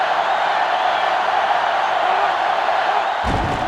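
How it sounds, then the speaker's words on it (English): Broadband crowd noise from a stadium in the football video game NCAA Football 2005, USC at Tennessee, swelling as a loud, steady roar with cheering throughout, closing on a brief burst near the end. "The crowd is really letting them hear it."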